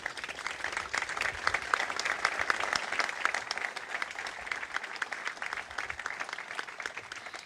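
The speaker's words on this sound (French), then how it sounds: "vous pouvez applaudir nos forces armées" An audience applauds the armed forces during a speech, with continuous, moderately distant clapping from many people at an even level, fairly soft overall.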